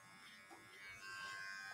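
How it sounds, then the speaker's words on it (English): Electric hair clippers run with a steady, faint buzz during a barbershop haircut, a continuous hum without talk. "I'm going to open my clippers all the way, and I'm going to go probably about 1 inch below this baseline."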